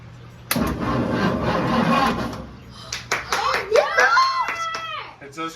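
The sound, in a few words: 1963 Ford Thunderbird engine cranking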